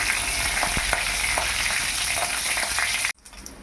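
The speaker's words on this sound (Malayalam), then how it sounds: "കടുക്, പെരിഞ്ചീരകം, കറിവേപ്പിലയും വറ്റൽമുളകും കൂടി ചേർത്ത് ഒന്ന് ഇളക്കി കൊടുക്കുക." Mustard seeds, fennel seeds, curry leaves and dried red chilies sizzle and crackle steadily in hot oil while being stirred, a close, dense frying hiss that cuts off abruptly near the end, leaving a quieter tail.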